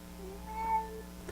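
A single faint cat meow rises and falls against a quiet room hum, with a brief small noise at the end.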